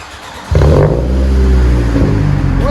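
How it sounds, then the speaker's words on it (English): A 2007 Toyota Solara four-cylinder with muffler delete and a 12-inch Cherry Bomb glass pack bursts from idle into a loud, raspy rev, then holds a deep, droning exhaust rumble close by. "I replaced it with that muffler delete and cherry bomb muffler."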